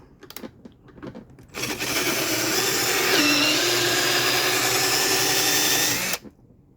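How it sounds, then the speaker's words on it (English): A power drill whirs loudly for about five seconds while drilling a backpack sprayer hose part, its motor pitch dipping slightly under load, preceded and followed by faint clicks and handling noise. "I'm gonna start off drilling these"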